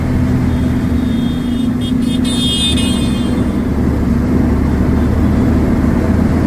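A loaded truck rolling along a road after a jump start, its engine and road rumble loud, steady and close throughout, with a brief higher whine partway through.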